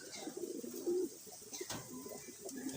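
Racing pigeons coo softly inside a covered loft, low throaty calls repeating quietly over faint background noise.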